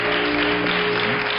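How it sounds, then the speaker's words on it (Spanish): An audience applauds, a dense, steady burst of clapping lasting briefly without pause. "Un aplauso para maquillaje."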